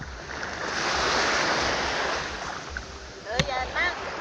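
Sea waves washing in and splashing at the shore, a broad rushing surge that swells and then fades, followed by brief voices near the end.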